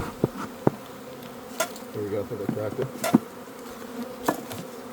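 Bees buzz at an opened hive during a colony split, a steady close insect drone with scattered clicks and knocks from hive boxes, under occasional talk.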